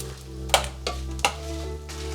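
Dried chiles de árbol fry fast in a little oil with a soft sizzle under low hum, broken by three sharp scrapes or clacks of a utensil against the pan.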